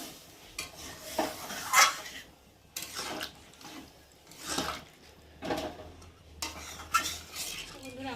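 A spoon stirs a pot of Malabar spinach cooking with fish head and added water, making several separate bursts of metallic scraping and clinking against the pan, close and moderately loud, with short pauses between strokes.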